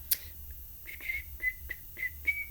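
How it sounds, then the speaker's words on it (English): A person whistles a handful of short, breathy notes in a halting rhythm, fairly close and clear, with quiet room noise underneath. "I can't whistle anymore."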